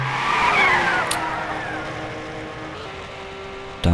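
Gran Turismo 6 race car drifting with a sustained tyre squeal over a loud engine drone, fading slightly across a few seconds before a sharp burst at the end.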